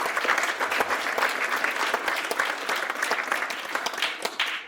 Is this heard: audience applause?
yes